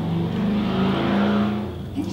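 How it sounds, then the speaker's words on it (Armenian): A tractor passing by outside, its steady low engine drone swelling and then easing slightly over a couple of seconds, with no voices. "ինչ տրակտոր անցավ"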